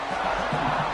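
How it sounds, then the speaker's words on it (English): A PS5 college football video game stadium crowd roars as a dense, steady wash of noise, with a faint commentary voice under the crowd. "This crowd bringing the energy and noise early."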